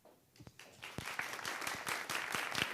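Applause from an event audience swells from a few scattered, nearby claps into fuller, steady clapping that lasts to the end.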